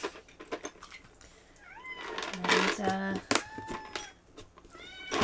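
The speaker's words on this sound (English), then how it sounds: "Oh, kittens. Cat chaos." Several house cats meow in a chaotic burst as treats are handed out, brief rising and falling calls overlapping each other at close range, with a person talking through and around them.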